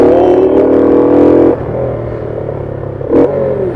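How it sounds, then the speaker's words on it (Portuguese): A car drives past at night, its engine and tyre noise loud and close before fading, with a brief second swell of road noise a moment later. "sempre vem um carro com farol alto"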